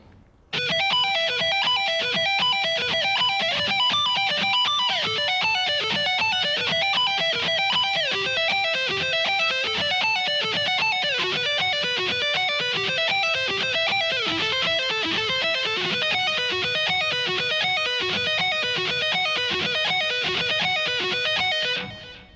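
Fast, bright electric guitar three-string sweep-picked arpeggios ripple up and down in a steady, unbroken stream, played cleanly and evenly for over twenty seconds with no voices.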